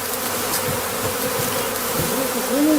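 Dense, steady buzzing of many honeybees around a bee skep, loud and close, with individual bees droning past in rising and falling tones and no voices.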